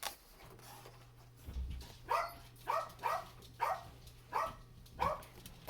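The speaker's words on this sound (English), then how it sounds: "Sorry about the dogs in the background." Several dogs bark at a distance in a steady series of about seven barks, faint over a low, constant hum.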